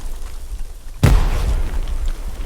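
A grenade goes off in the Fortnite video game as one loud, sharp boom, followed by a rumbling decay over steady background noise.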